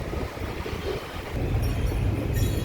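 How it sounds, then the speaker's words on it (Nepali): Wind gusting through tree branches beside a temple in Lalitpur, Nepal, makes a continuous rushing roar that swells louder halfway through, with no voices. "हावा मजाले लागेको छ।"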